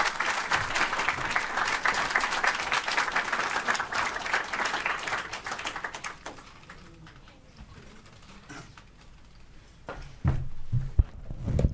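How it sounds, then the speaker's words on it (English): A hall audience at a diversity program graduation ceremony claps steadily and loudly for about six seconds, then the applause fades to a few scattered claps, light footsteps and shuffling before a brief louder burst returns. "One more round of applause for Evelyn."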